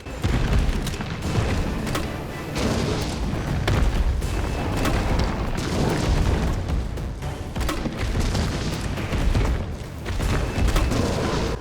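Grenade launcher blasts in the 2020 Resident Evil 3 remake, a dense, continuous barrage of loud booming explosions layered with game action and no clear pauses between bursts.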